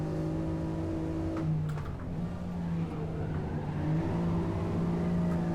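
Honda NSX race car in the Assetto Corsa racing game, its engine droning steadily with sustained tonal revving and slight pitch shifts while sliding sideways, loud and continuous with no voices.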